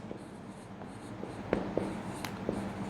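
Chalk taps and scratches on a classroom board in short, irregular strokes, faint and close, with no talking.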